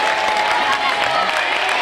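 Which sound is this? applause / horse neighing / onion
applause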